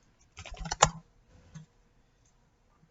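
Typing on a computer keyboard while writing a documentation file: a quick cluster of soft key clicks, then a single tap and a faint click later, all quiet and close with no talking.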